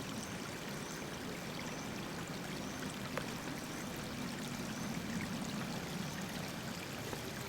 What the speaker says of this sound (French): Regardez l'eau qui passe entre les pierres.